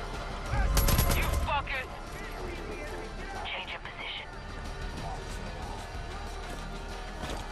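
Shooting at cult members in the game Far Cry 5: a loud burst of gunfire near the start, then sparser shots and clatter under ongoing speech.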